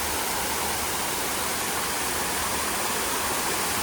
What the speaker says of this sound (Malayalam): ഇവിടെ വേറൊരു കുഞ്ഞു വാട്ടർഫോള്, അതങ്ങനെ ഒഴുകി കണ്ടോ